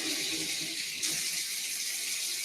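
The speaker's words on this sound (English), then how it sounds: "the first thing we need to do is wash our hands. Remember, very warm water," Warm water running steadily from a kitchen tap while hands are washed, a continuous close hiss with a slight shift in flow about midway and no talking.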